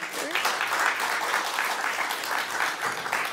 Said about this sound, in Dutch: Ik geef haar een heel warm applaus